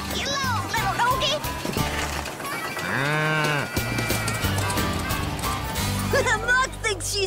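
A cartoon cow lets out a drawn-out moo in the middle of lively animated dialogue, with voices and music around it and the moo rising clearly above the talk.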